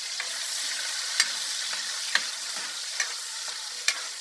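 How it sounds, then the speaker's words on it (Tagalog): Red bell pepper, garlic and onion sautéing in a hot pan, a steady bright sizzle broken by several sharp stirring clicks and scrapes, close and alone with no voices. "Saute lang natin."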